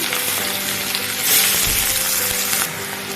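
Onions fry toward brown in a pan for an egg and potato curry, making a loud, close, steady sizzle with occasional soft stirring, no speech.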